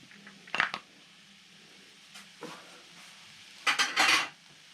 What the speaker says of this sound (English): Now start to cook and give it a stir.